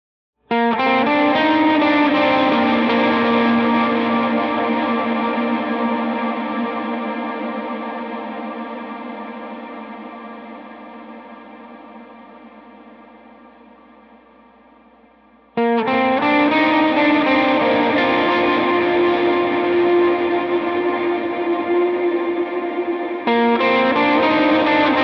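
Amazing Grace on lead electric guitar through distortion, chorus and echo, with long sustained notes that swell and slowly decay for about fifteen seconds before a loud new phrase enters. Thick, saturated and close, with no voices.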